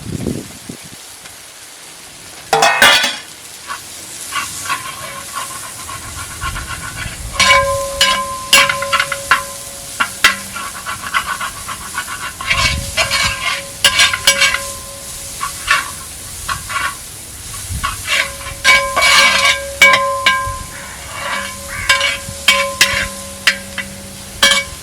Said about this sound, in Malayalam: ചെറിയ ഉള്ളി, കറിവേപ്പില, ഇഞ്ചി, വെളുത്തുള്ളി, ഇതെല്ലാം ഇട്ട് നമ്മളിങ്ങനെ വഴറ്റിക്കൊണ്ടിരിക്കുക.